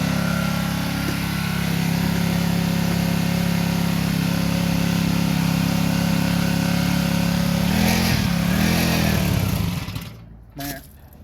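A small engine runs steadily after a choke start, warming up with a loud, even idle drone close by, then a brief change in pitch before it cuts out near the end.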